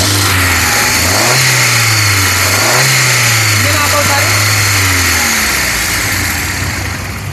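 Engine of a 2013 Hyundai i10 Magna revving under the accelerator: a loud, close idle climbs in two rising revs and drops back, then holds steady before fading slightly.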